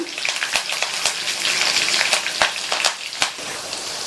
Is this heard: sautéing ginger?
yes